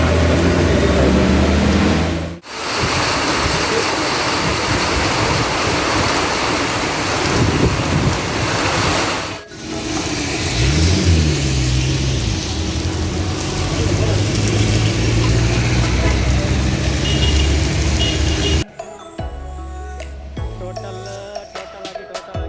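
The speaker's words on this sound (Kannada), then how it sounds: "ಭಯಂಕರ ಅಂದರೆ ಭಯಂಕರ ಮಳೆ" Heavy rain pours in a dense, continuous hiss with gusty wind noise, broken by two brief dropouts, before the sound shifts abruptly near the end.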